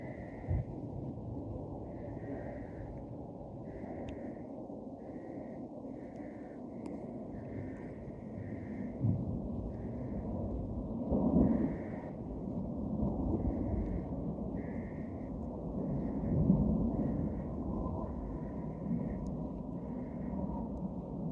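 A distant Air Force jet rumbles low and steadily across rugged Colorado mountain wilderness, swelling slightly in places, while a faint, regular chirping repeats above it.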